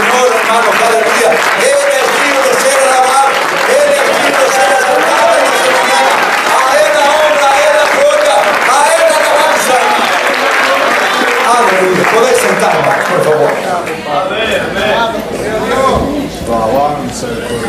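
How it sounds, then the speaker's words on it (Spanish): A church congregation applauds loudly and steadily for Christ in a Spanish-language worship service, the dense clapping mixed with crowd voices and cheering throughout, easing slightly near the end. "Denle un aplauso a Cristo, hermanos"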